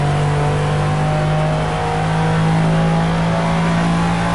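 A mid-engine race car in the video game Project Cars drones steadily as heard from the cockpit, a loud, constant engine tone with a faint rise in pitch and no talking.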